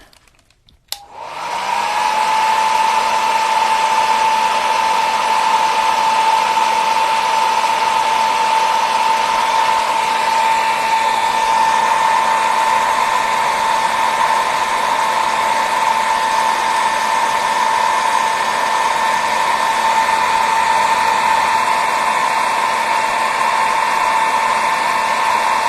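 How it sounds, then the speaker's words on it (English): A handheld blow dryer switches on with a click and runs steadily to dry a painted nature journal page, a loud, even whirring hum with a constant whine held for over twenty seconds, no talk. "Okay, blow dryer."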